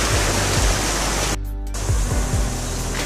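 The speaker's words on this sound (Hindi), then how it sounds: "और आपको दिखाते हैं यहाँ नदी" A river with clear water rushes past, making a loud, continuous broadband roar close by, with a brief dip in the middle and some low thumps from handling.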